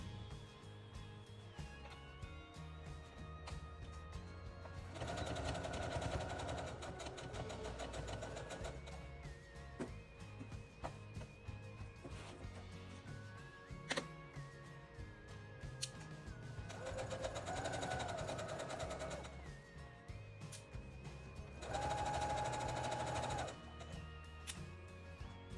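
A sewing machine stitching a zippered jacket runs in several sustained bursts, close and steady, with a rapid mechanical whir and brief pauses between runs.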